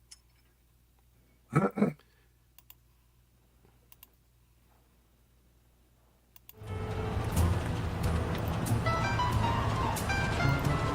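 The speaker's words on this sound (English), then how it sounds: "I'm going to play the trailer right now, Chris." Jack Frost movie trailer playing: after a quiet stretch with a brief muffled noise and faint clicks, dense trailer audio with music and effects suddenly starts and continues loudly to the end.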